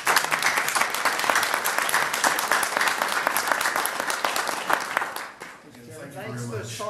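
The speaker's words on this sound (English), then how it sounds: "everybody deserves a round of applause for that" A room at a special board meeting breaks into full, dense applause, steady and loud for about five seconds before fading out, followed by the start of a speaking voice.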